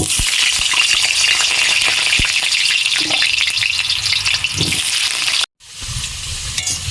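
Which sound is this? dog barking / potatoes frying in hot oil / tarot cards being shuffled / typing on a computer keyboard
potatoes frying in hot oil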